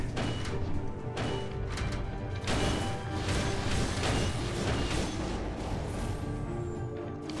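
Dense, continuous rumbling blasts and crashes from the video game Skul: The Hero Slayer, loud and chaotic, with booms overlapping one another throughout.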